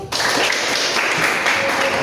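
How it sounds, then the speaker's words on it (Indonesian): Children in a classroom clap their hands together in a steady, continuous burst of close, bright claps that fills the whole moment. "Oke, tepuk tangan dulu."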